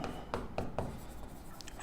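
Chalk or marker taps and scratches across a teaching board, a few quick strokes in close succession, near and fairly quiet.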